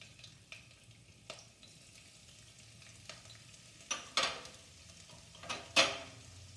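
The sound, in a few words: julienned ginger frying in pan for tuna roast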